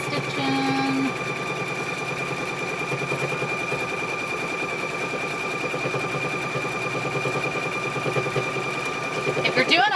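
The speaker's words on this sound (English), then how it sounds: "Stitch this one down just to keep a stitching" A sewing machine hums steadily while stitching quilt squares, running for the whole stretch under a person talking, with a short tone at the start and faint clicks near the end.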